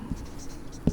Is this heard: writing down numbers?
yes